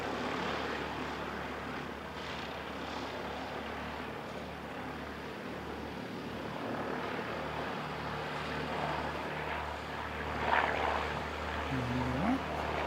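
Cessna Skyhawk propeller airplanes on runway 29, a low engine drone steady in the background at moderate distance, with talk over it and a brief swell near the end.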